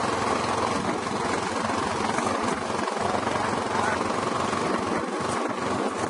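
A steady, loud engine drones throughout with constant broadband roar, like a motorcycle cruising along a road.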